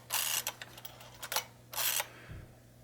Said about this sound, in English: wind it again.